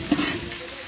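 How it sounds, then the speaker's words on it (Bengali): Ginger-garlic paste with cinnamon, cloves, cardamom and salt frying in a pot in a village kitchen, with a close, steady sizzle and a few short stirring scrapes, no voices. "রসুন এবং আদার কাঁচা গন্ধ উঠে যাওয়া পর্যন্ত এগুলোকে ভেজে নিব।"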